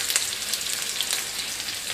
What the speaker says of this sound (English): Oh, you can hear that sizzle already.